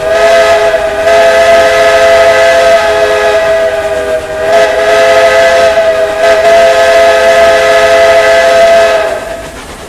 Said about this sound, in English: Give it one more whistle.